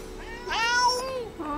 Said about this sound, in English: Meow. Meow. No, Mr. Kitty, it's a bad kitty!